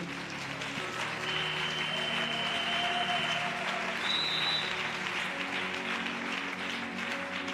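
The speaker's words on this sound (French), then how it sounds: "Acclamons le Seigneur." A church congregation claps and cheers in praise during a worship service, steady sustained applause filling the room for several seconds with sustained musical tones ringing underneath.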